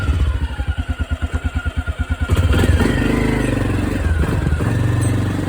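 A Can-Am DS 250 ATV engine running while being ridden, a close pulsing idle-like chug that rises into a louder, steadier drone as it pulls away.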